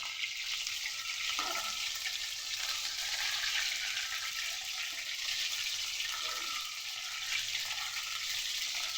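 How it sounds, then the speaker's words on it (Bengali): Loitta (Bombay duck) fish pieces frying in a pan, giving a steady, dense hiss of sizzling oil that holds at an even level throughout, close by, with no voices. "একে একে লোটে মাছগুলোকে ভালো করে ভেজে নেব।"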